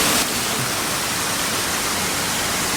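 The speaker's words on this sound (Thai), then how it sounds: "เดี๋ยวเราจะพาเดินมา ตรงที่น้ำตก" A waterfall inside a cave in Chiang Rai, Thailand, a steady loud broadband roar of falling water, even and unbroken throughout.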